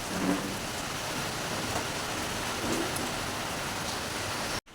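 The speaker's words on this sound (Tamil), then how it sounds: "பயங்கரமா மழை பெய்யுது" Heavy rain pours steadily in strong wind, a dense continuous hiss close by with low rumbling gusts, cutting off abruptly near the end.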